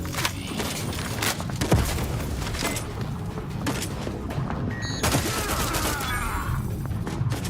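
A rapid volley of video game gunfire with booms and thuds, shots crackling steadily at close range over a busy battle din.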